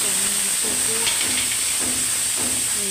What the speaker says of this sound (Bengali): ভাজা হয়ে গেছে, এখন তেলের মধ্যে দিয়ে দিয়েছি কালো জিরে।